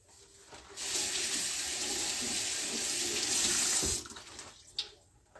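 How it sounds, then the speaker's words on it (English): Tap water running into a sink to rinse an eggplant: a steady hiss of flowing water for about three seconds, then it cuts off with a few small splashes and drips. "let's rinse it"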